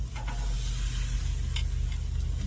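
Ribeye steak searing in a pan with butter melting around it, a dense continuous sizzle with a low steady hum beneath, heard up close and alone.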